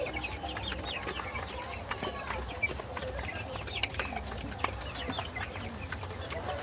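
Tiger chickens cluck continuously at low to moderate level, with overlapping short calls from several birds in a farm setting, under faint background noise.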